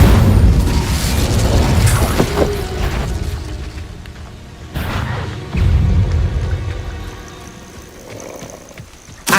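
Incendio fire spell cast in the video game Hogwarts Legacy: deep whooshing bursts and rumbling booms rise and fade in several waves, with crackling bits between them and a sharp hit at the very end.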